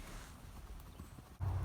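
A horse's hooves clip-clop in a dressage arena during schooling on a square serpentine, soft muffled footfalls at moderate distance under wind and ambient noise, followed by a louder low rumble near the end.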